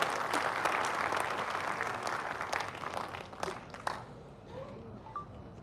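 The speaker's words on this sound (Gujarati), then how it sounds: "જોરદાર તાળીઓથી જવી જોઈએ ભાઈ" A crowd at a civic inauguration ceremony in Vadodara claps enthusiastically, a thick wash of many hands that tapers into scattered claps and fades after a few seconds.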